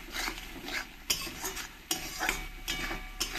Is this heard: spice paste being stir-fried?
yes